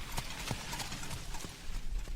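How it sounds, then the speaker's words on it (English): A horse-drawn cart passes by in a town, its hooves clip-clopping in a fairly quick, even rhythm at moderate distance against a busy background wash. "A horse-drawn cart passes us by"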